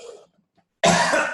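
A single loud, harsh cough bursts out close to the microphone after a brief murmur of speech and a short silence.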